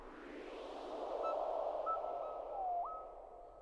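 A soft, distant wash like waves on a shore, with a few thin, high bird-like whistles gliding over it.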